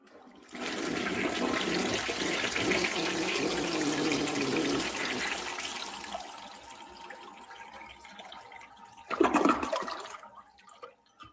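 A toilet flushes in one long loud rushing surge, then a second short burst of gurgling water closes it out as the tank refills, with no voices.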